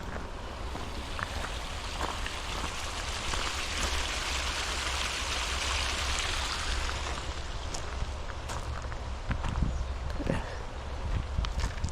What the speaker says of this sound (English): I always enjoy running water when I'm out hiking in the woods.